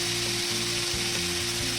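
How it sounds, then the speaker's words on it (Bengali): Cabbage and grated carrot stir-frying with onion, ginger and garlic for veg momo filling, a dense close sizzle with quick repeated scraping strokes of a spatula. "এবার ধীরে ধীরে এটাকে নাড়িয়ে চাড়িয়ে এটাকে আমরা কিছুটা ভেজে নেব।"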